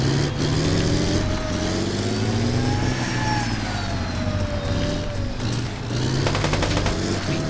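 Sustained machine gun fire during an armored battle group milsim operation in a market area, rapid bursts layered over rumbling vehicle engine noise, dense and loud throughout with shifting revving tones.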